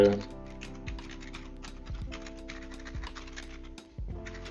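Quick, light clicking of fingers typing on a computer keyboard, soft and close in an irregular patter, with a voice speaking quietly over it.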